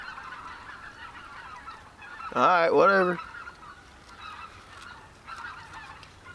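A big flock of geese honks overhead outdoors at a cold-weather camp, a loud burst of overlapping honks rising briefly and then fading into faint distant calls.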